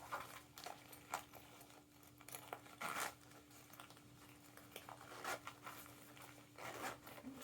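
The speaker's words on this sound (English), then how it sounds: "undo the zipper." A zipper is undone on a sewn fabric bag, with a few quick, faint rasping pulls and soft fabric rustles between them, close by and quiet.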